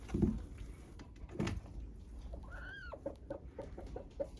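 A broody hen being lifted off her eggs clucks in a few short bursts, with a higher drawn-out squawk in the middle, close and fairly quiet against faint background noise.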